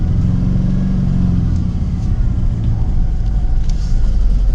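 A manual lawn mower engine cranking and catching, a close, loud, rough rumbling idle with uneven low revving throughout, no talk.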